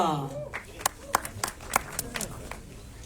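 Scattered claps from a film premiere gala audience, a few sharp hits spaced through the moment, with a voice speaking over them throughout.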